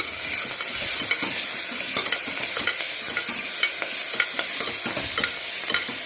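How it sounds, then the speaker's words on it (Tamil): Onions sautéing in a pan with curry leaves, coriander and salt for mango vatral sambar: a steady, close sizzle broken by frequent scraping clatters as a spoon stirs against the pan. "வெங்காயம் நல்லா வதங்கிட்டோம்"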